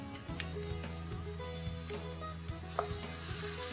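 Spiced masala of red chili powder, turmeric, salt and garam masala sizzles softly in a pan for Punjabi black dal as a spoon stirs it in light scrapes and taps, set against a steady tonal background.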